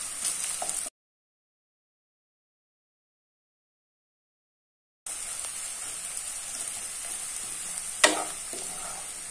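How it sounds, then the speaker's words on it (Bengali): Onion and garlic sizzle in a pan while being stirred, a soft continuous frying hiss with a gap of silence in the middle and a sharp scrape of the spoon near the end. "আমরা আর 1 মিনিটের মতন নেড়ে চেড়ে ভেজে নেব।"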